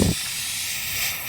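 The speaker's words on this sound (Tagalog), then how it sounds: "Ayan, dinig yung singaw niya." Refrigerant escapes with a steady, loud hiss from the AC condenser of an Isuzu Traviz reefer van, damaged by an impact near the bumper. A short, heavier burst opens the sound, then it settles into a continuous hiss.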